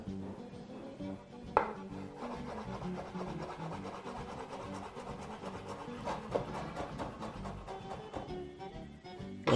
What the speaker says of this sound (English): So I'll just start by chopping a bit of parsley, which we're going to add there.